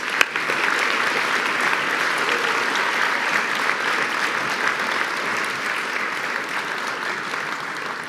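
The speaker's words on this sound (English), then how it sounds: "Let's give everybody one more round of applause." An audience at a Sterling Scholar awards ceremony gives a sustained round of applause, a dense, even roar of many hands clapping that holds steady at full strength for about eight seconds.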